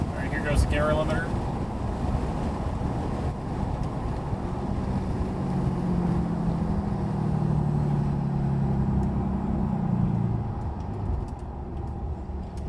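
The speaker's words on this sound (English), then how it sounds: "here goes the gear limiter" A 2022 Ram 2500 pickup with the 6.7 Cummins diesel and an S&B cold air intake, exhaust brake engaged on a pull, rumbling low and steady with wind noise through open windows.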